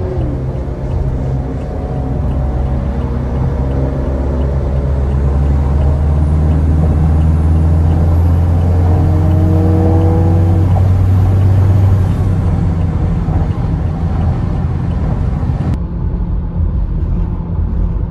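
A Toyota Innova fitted with a twin-turbo engine speeds hard, its loud, steady engine drone rising in pitch over about twelve seconds before easing off and dropping away near the end.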